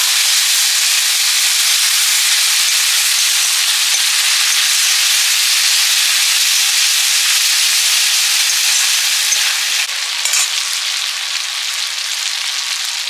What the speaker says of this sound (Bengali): এবারে দিলাম রসুন আর আদা বাটা